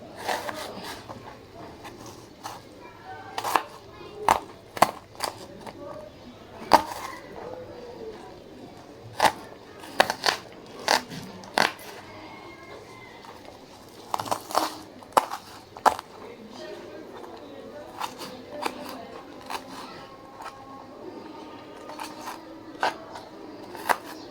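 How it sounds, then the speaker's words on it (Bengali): A knife chops onion thinly on a board, giving sharp irregular taps in uneven clusters over a steady low room hum, close and fairly crisp, with pauses between runs of cuts. "একদম পাতলা পাতলা করে কাটবো যাতে আমার পেঁয়াজটা জলদি হয়ে যায়।"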